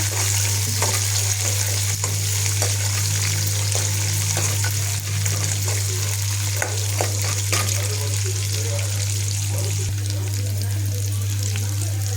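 Flattened rice (atukulu) and curry leaves fry in hot oil with a steady close sizzle and crackle, stirred now and then, over a constant low hum and faint background voices.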